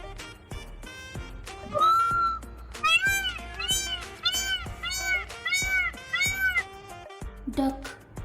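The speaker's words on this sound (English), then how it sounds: "Peacock," A peacock calls over and over, a loud series of wailing, cat-like cries in a steady rhythm, mixed with some lower background noise.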